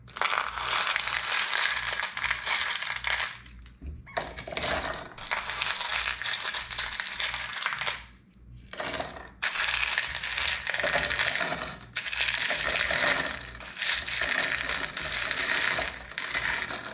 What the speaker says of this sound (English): I'm going to be a little bit more careful as I place the big ones in so that they don't clack against each other too hard and fracture.